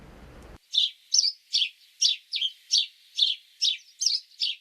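City sparrows chirp in a steady series of about ten short, bright calls evenly spaced, clear and fairly close against silence after a brief noisy start.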